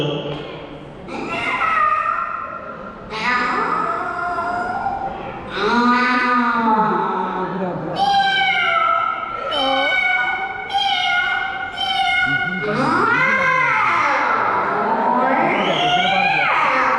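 A person vocally imitates a cat fight between a Persian cat and a local cat, producing a long run of loud, wavering yowls, meows and screeches in bursts, with a crowd in the background.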